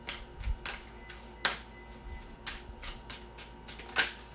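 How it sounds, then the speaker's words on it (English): Tarot cards being shuffled by hand: a series of crisp, riffling bursts about once a second, close and fairly quiet, with no talking. "These cards don't shuffle very well."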